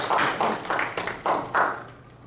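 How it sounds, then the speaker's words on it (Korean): An audience at a public broadcast event claps in a handful of loud, rhythmic bursts that fade out at the end. "박수 부탁드립니다."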